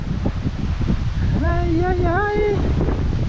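Wind blows at the seashore in a steady, loud rumble against the microphone, with the sea beneath it and a man briefly calling out in the middle.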